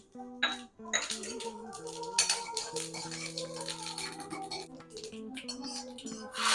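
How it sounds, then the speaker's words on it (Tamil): Mustard seeds, urad dal and cumin tempered in coconut oil in a kadai for a ridge gourd kootu, with clinking and scraping of metal utensils and spluttering in a busy kitchen. "கூட்டுக்கு கடுகு, உளுத்தம்பருப்பு, சீரகம் தாளிச்சுக்கலாம்."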